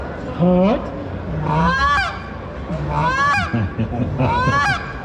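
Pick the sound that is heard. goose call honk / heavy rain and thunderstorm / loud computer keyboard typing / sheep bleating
goose call honk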